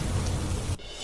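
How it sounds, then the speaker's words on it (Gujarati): Heavy monsoon rain pours down in Bhatia village, Dwarka, a dense roaring wash of downpour that cuts off abruptly near the end. "ભાટિયામાં ભારે વરસાદ ખાબકતા ગામ પાણી થયું"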